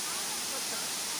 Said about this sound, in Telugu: ఇక్కడ చాలా పైనుంచి వాటర్ పడుతూ ఉన్నాయన్నమాట.